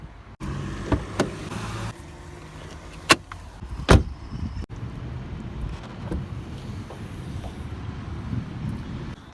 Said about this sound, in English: I'm going to lift the bonnet